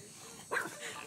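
A small dog gives a single short bark or yip at mid-distance, set against faint outdoor background noise.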